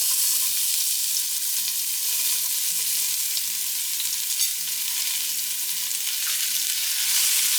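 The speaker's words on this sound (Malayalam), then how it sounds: "ഇനി ഇതിലേക്ക് നമ്മൾ സവാള ഇട്ട് കൊടുക്കുകയാണ്" Two long-sliced onions fry in a pan for paneer biryani, giving a loud, steady, continuous sizzle that holds evenly throughout with no talking.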